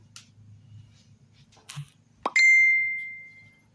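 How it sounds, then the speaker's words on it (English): A phone notification chimes: a quick rising blip, then a sustained bright ding that rings out and slowly fades, heard alone over a faint low background hum. "My phone's going off."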